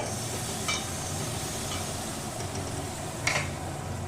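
A spice paste being stirred in hot oil for doi katla gives a steady, low sizzle with occasional soft scraping strokes, close and continuous.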